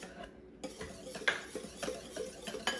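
Cake batter with orange zest being mixed in a bowl for chocolate and vanilla cupcakes, giving soft scraping and clinking strokes of a utensil against the dish in an irregular rhythm, close up with no talking.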